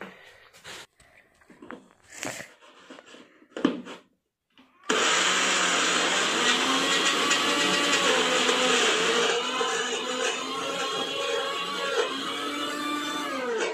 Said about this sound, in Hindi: फाइनली पूरा पीस लिया मैं उड़द का दाल।